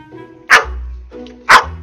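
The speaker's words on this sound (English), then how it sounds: "This is how any normal dog would be excited about their food." A Belgian Malinois barks excitedly over its food, two sharp, loud, close barks about a second apart, with low whining and panting between them.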